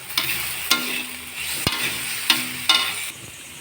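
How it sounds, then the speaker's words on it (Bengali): Potatoes frying in a wok while egg chow mein is being prepared at home. Close, steady sizzle with several sharp utensil clanks and scrapes from stirring. "কড়াতে আলু ভাজা করতে দিয়ে দিয়েছি।"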